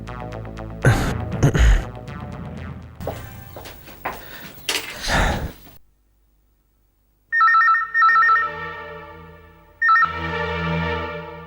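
After a stretch of clattering activity and a short silence, a telephone rings loudly in two repeated trilling bursts.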